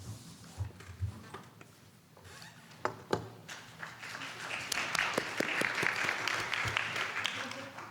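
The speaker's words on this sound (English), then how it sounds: "Not used to getting applause like that." Scattered claps from an audience at a school board meeting build into fuller, steady applause, starting sparse and uneven and growing denser and louder toward the end, with some murmured talk underneath.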